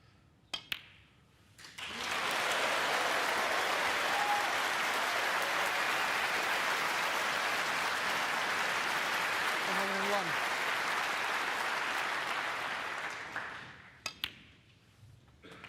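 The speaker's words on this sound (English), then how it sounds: "we'll get a terrific cheer from this Ali Pali crowd when this pink goes in" A snooker crowd at Alexandra Palace erupts as the pink goes in at the Masters, and the cheering and applause swell into a long, loud, sustained roar that fades after about twelve seconds, with a voice briefly heard beneath it.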